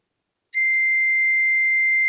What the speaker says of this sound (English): check one probe in the ground and check using the multimeter